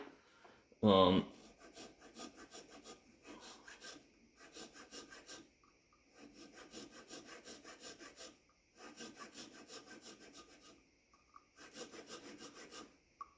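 A hand checkering tool cuts into a wooden stock in several rhythmic bursts of close, dry rasping strokes, with brief pauses between them. The first burst is preceded by one sharp knock, and faint talk can be heard in the background.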